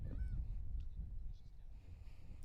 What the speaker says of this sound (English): All sorts of crazy birds down here making all sorts of crazy noises today.